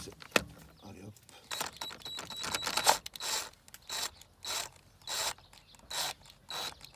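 A hand tool works the bolts on a car's suspension arms, giving quiet irregular ratcheting clicks and metallic turns in short bursts, close by, with no talk.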